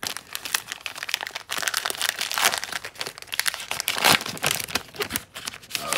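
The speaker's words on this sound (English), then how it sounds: "And now let's go ahead and rip into this second one." A foil Chronicles basketball trading card fat pack is torn open by hand, with loud, close crinkling and ripping of the wrapper in uneven bursts and no voices.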